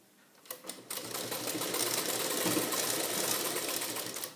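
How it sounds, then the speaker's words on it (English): A sewing machine runs a steady, continuous top stitch along a blouse waistband, starting with a few short bursts and then holding a close, even whirring rhythm for several seconds. "Give a top stitch on the waistband."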